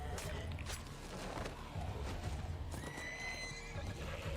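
Horses whinny and neigh loudly over a busy backdrop of hoof clip-clops and scuffling during a television drama scene, with a long rising neigh near the end.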